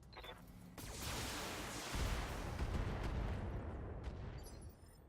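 Mech weapons firing in a BattleTech video game, a sustained roaring barrage of heavy blasts building and rumbling for several seconds before cutting off.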